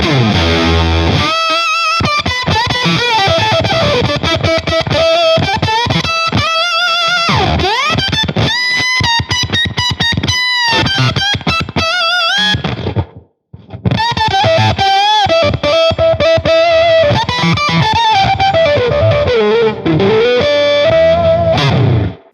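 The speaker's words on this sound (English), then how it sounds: "I love octave up fuzzes." A heavily distorted electric guitar through an octave-up fuzz pedal, an AmpliTube Joe Satriani Collection plugin, plays bending lead lines with a buzzy fuzz tone, loud and continuous apart from one brief pause midway.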